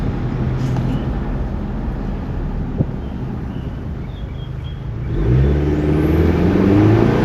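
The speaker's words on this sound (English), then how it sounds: "I never realized how high the revving is on this." Engine hum with wind noise, then the engine of a 2023 Chevy Colorado LT pickup truck with a blow-off valve revs up near the end, pitch climbing and holding loud.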